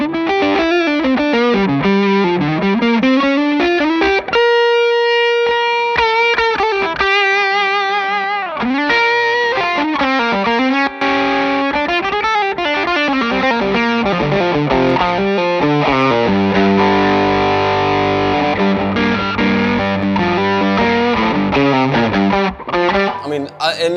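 Electric guitar run through a Tone City Big Rumble overdrive pedal, playing loud, continuous chords and melodic lines with a mildly overdriven, effects-colored tone and brief near-clean passages, alone without talk.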